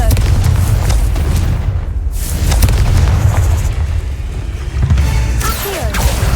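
Loud booming blasts from the Confringo spell in Hogwarts Legacy, a sustained rumbling roar with a couple of sharper bursts swelling and fading, close and heavy, without talk.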